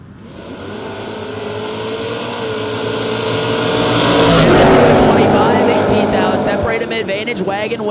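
Drag race cars, a Chevelle lined up against a wagon at a footbrake race, rumble and then roar louder as they launch, under an announcer talking over the public address.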